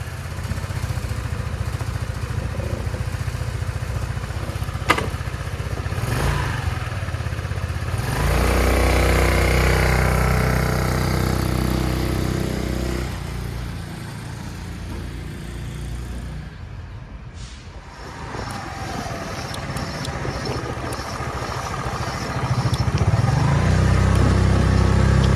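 Motorcycle running on a new 12V lithium iron phosphate battery, the engine idling loudly nearby, then revving and riding off as the sound swells and fades, returning close at the end.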